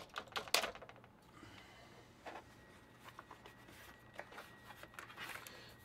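Scattered keystrokes on a computer keyboard, one of two keyboards on a desk, tapping in irregular bursts at close range with short pauses between, fairly quiet with no voices.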